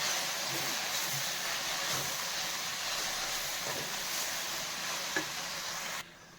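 Mint chutney ingredients frying and being stirred in a pan for hotel-style mint leaf chutney, a steady close hiss with faint stirring scrapes, no talking, cutting off abruptly near the end.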